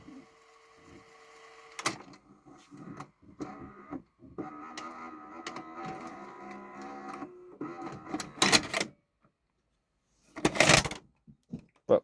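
A VCR ejecting a videotape, with a run of close mechanical whirring and clicking from the transport, broken by a brief pause and then a couple of sharper clunks near the end.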